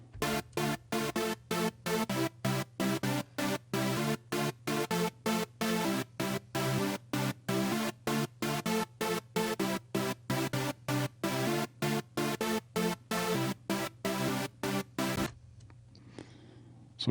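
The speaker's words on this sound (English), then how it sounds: "So let's start with just that main synth." Dry, unprocessed main synth melody from a melodic electronic production, playing a steady rhythmic pattern of clipped, gated notes alone, loud and upfront, cutting off near the end to faint noise.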